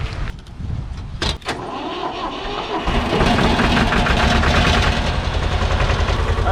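An old diesel manlift cranks over with a few rough starter bursts, then catches and settles into a loud, steady, clattering diesel idle close to the microphone, with no talking.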